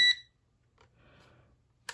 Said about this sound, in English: You can hear the sound, the beeping.